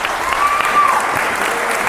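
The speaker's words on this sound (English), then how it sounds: "Give him a round of applause." Loud audience applause at a mental health speaking event, steady close clapping from a crowd with some voices mixed in.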